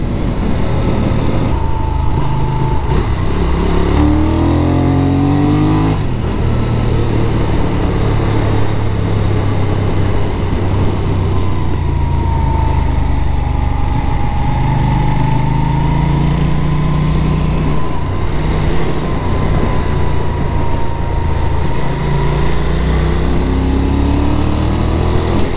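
A 2023 Benelli Leoncino 800 A2 motorcycle engine drones continuously while riding, its pitch climbing and falling as gears are shifted, a close, steady roar mixed with wind and no talking.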